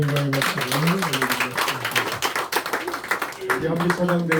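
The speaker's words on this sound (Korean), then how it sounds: "하나님께 영광의 박수 올려드리겠습니다" A church congregation applauds with steady clapping during a Sunday service while singing voices carry over it, the applause fairly loud and sustained.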